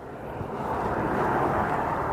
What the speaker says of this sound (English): We might see this plane coming in.